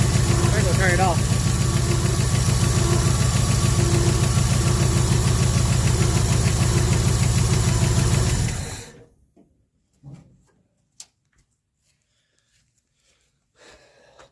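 1974 Ford F100 engine idling after sitting parked for 21 years, a steady loud rhythmic knocking run for about nine seconds before it shuts off, leaving near silence with a few faint clicks.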